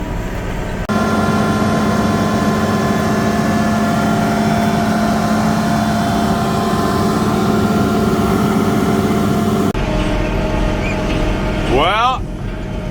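A 30-plus-year-old tractor used for spraying runs at a steady loud idle, its low rumble and humming tones constant and close, with someone speaking over the engine.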